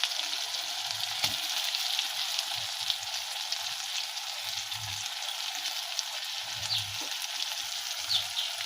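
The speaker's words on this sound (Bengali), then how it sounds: "ওর উপরে আমরা গোবিন্দভোগ চালটা যেটা ভিজিয়ে রেখেছিলাম সেটা দিয়ে দেবো" Soaked Gobindobhog rice sizzles in a pan of cooked-down spice masala, a soft, even hiss that holds steady for several seconds, with a few low bumps of the pan and spoon.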